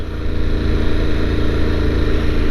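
A motorcycle engine rumbling steadily and loudly at low speed, a continuous deep drone throughout without talk.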